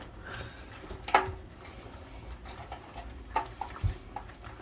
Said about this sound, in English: there's a little bit of yellow left, so we're just going to rinse out the cup